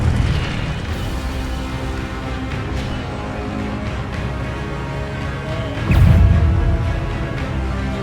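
Incendio fire spell cast in Hogwarts Legacy, a booming, rumbling burst of flame over a steady background of game sound, with one stronger whoosh near the end.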